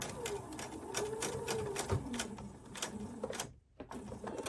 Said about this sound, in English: I'm going to put my needle down first and then lower my presser foot and I can start stitching